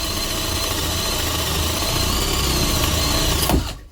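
LEADER cordless drill driver boring with a worn, blunt 25 mm spade bit, a steady loud motor whine grinding continuously for about three and a half seconds before spinning down and cutting off.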